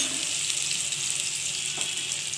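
Chhana bora, cottage cheese fritters, frying in oil make a continuous close hissing sizzle, even and unbroken, with one faint knock partway through.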